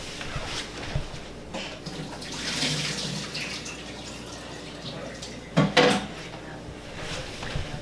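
Boiled boba pearls tipped into a strainer with hot water, a splashing rush of water with a few clanks of a pot or strainer, moderately close, and a voice faintly in the background.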